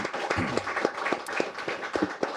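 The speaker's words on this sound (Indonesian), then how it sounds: "Kasih tepuk tangan buat Pak Wamen." An audience at a public event applauds the deputy minister for transmigration with scattered, uneven hand claps that come in loose bursts, with faint voices underneath.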